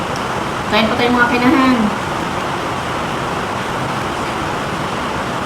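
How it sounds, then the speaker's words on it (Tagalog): Steady rain falling outside on a rainy night, a constant soft hiss throughout, with someone speaking briefly near the start. "yung tunog ng ulan sa labas."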